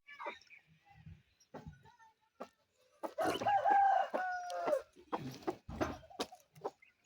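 Village chickens pecking at food in rural Karnataka give scattered clucks and a louder drawn-out call near the middle, with short rustles and knocks between them in an otherwise quiet outdoor setting.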